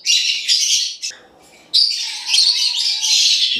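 An African lovebird of pale pastel colouring chirps in an aviary, giving dense, shrill bursts of high tweets that pause briefly and then resume in a steady, close chatter.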